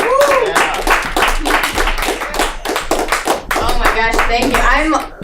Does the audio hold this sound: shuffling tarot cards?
no